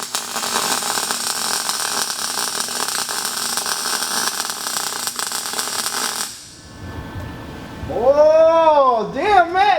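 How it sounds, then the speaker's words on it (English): Welding on the body of a burned Nissan S13, a dense continuous crackling hiss for about six seconds that cuts off, after which voices talk loudly. "Matt, you can weld yourself."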